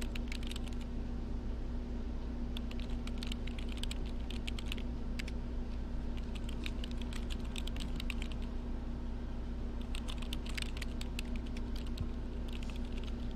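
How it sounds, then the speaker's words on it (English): Keys clatter on a computer keyboard in The Sims 3 in quick, irregular bursts of typing. A steady hum and light background game ambience run underneath. "look at that gibberish she's typing"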